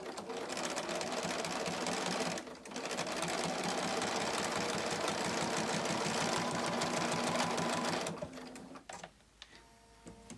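A sewing machine runs a straight stitch in a steady, rapid mechanical chatter for about eight seconds, then stops, leaving a few faint clicks and handling noises.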